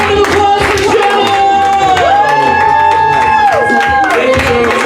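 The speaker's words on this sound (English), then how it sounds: "Round of applause for Joan!" A live audience at a comedy show claps and cheers for a performer named Joan, with whoops and shouts over a busy crowd roar, while a voice and music-like tones run beneath the noise.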